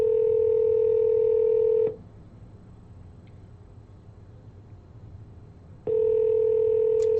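A steady telephone dial tone sounds loud and close while calling Phil, cutting off for a few seconds of near silence before the same tone returns unchanged.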